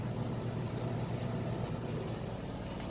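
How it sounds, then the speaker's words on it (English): A Samsung front-load washer spins at very high speed, producing a loud, steady, even whirring drone with no pauses and no voices. "And it is spinning extremely fast now."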